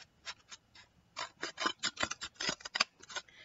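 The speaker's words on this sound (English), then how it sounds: "we're going to cut this fold right here" Scissors snip through a paper plate for a craft crown, a quick run of crisp, close cuts, each snip sharp and distinct, falling in an uneven rhythm with short pauses.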